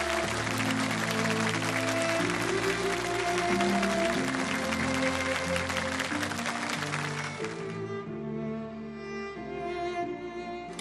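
Sustained audience applause at a televised award ceremony honouring anti-drug heroes and veterans, a dense steady wash of many hands over musical tones, thinning slightly near the end.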